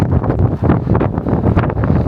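Strong gusty wind blasting across the microphone, a loud, continuous low rumble that surges and dips throughout.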